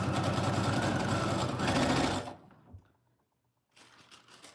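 A Brother sewing machine stitching scrappy rainbow fabric strips runs with a steady, loud mechanical whir for about two seconds, then stops, leaving near silence and a faint rustle of fabric being handled.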